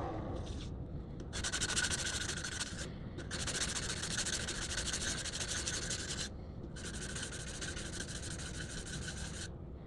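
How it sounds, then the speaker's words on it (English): Sandpaper of 400 grit rubs against a spinning wood-turned piece made from 2x4 lumber, giving a steady broadband hiss in three long passes separated by brief pauses, close and alone. "I sand to 400 grit"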